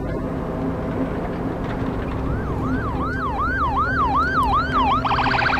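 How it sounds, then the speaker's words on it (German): An ambulance siren in the video game The Last of Us wails in a rapid rising-and-falling pattern, emerging over steady road noise and growing more prominent near the end. "Und Krankenwagen."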